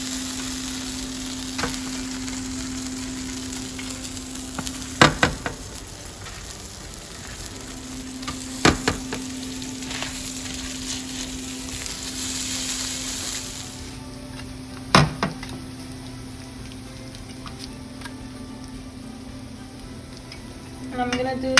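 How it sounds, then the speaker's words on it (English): Tortillas cook in oil on a comal with a loud, continuous close sizzle. Occasional sharp clacks of utensils sound against it, and a steady hum runs underneath, with no one talking. "we're gonna put the tortillas on the comal so they can finish cooking"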